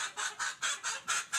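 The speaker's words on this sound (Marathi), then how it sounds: "त्या 7 गावरान पक्ष्यांमध्ये 1 गावरान कोंबडा आहे मित्रांनो आपल्याकडे. आणि 6 गावरान कोंबड्या आहेत" Country hens and a rooster, six hens and one cock at a village free-range poultry farm, give a quick run of rhythmic clucking bursts, about seven evenly spaced pulses, fairly close with no talk.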